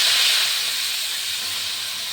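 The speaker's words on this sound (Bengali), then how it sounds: "পেঁয়াজের তেলেই পাট শাকটা ভাজবো" Chopped jute leaves hitting hot onion-flavoured oil, giving a loud, steady hiss of frying that eases slightly as it goes on.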